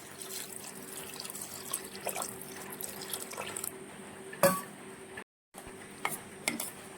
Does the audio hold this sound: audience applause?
no